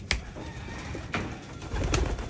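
Domestic pigeons at a free-flight training loft give low, soft coos, repeated in short bursts against a steady outdoor background, with no talk.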